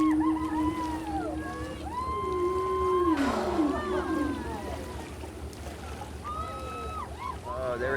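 A whale calls near a boat at sea: long, rising and falling tonal moans and whistles, fairly loud and close, repeating over a steady wash of engine and water noise, with a brief broadband splash or rush partway through.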